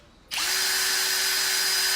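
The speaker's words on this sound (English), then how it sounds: "you hook the shaft up to your battery drill, put on a low torque setting" A cordless battery drill on a low torque setting spins up sharply and holds a steady high whine, driving a Renssi flex shaft, loud and close with no talking.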